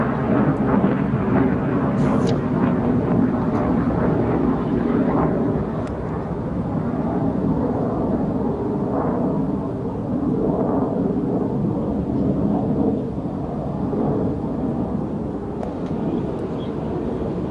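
JF-17 Thunder fighter jets in formation during a military firepower exercise in Multan roar past with a continuous, heavy, rumbling jet noise that stays loud throughout.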